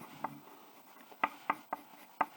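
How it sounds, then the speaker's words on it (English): A pencil scratches on paper in several short, quick strokes, quiet and close, spaced irregularly over a soft hiss. "Sorry if my pencil is starting to sound obnoxious"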